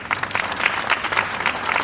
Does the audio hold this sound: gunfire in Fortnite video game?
no